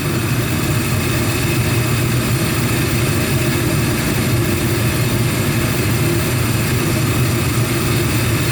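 Gas furnace with three burner nozzles lit and running after the igniter glows, a steady close, loud broadband roar with low rumble and constant hum throughout, no talk.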